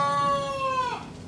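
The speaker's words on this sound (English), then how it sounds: "So our roosters have started crowing." A single rooster crow on a backyard homestead in Zimbabwe, a loud, close, sustained harmonic call that holds steady and then drops off at the end.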